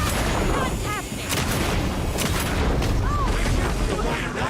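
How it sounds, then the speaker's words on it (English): Gunfire in a first-person shooter, Alan Wake 2, heard as dense, loud, booming blasts layered over constant game noise, with a voice briefly talking underneath. "let's reload and then we'll shotgun them."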